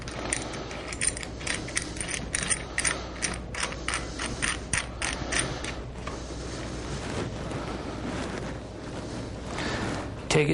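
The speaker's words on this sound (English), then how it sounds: "Grab a wrench and just snug them up." A hand wrench snugging bolts on a motorcycle frame's fork stop, giving quick clicky ratcheting and metallic taps in short bursts, close and moderately quiet, with a faint mechanical rattle between strokes.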